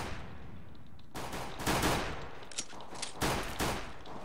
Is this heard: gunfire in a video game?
yes